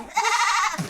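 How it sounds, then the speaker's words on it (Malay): A goat at a zoo gives one short, loud, close bleat lasting under a second. "Ada kambing."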